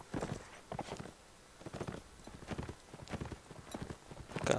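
Horse hooves beat in a steady clip-clop gallop inside the medieval combat game Mount and Blade: Warband, a loud rhythmic run of thudding strikes across the whole stretch with no talk.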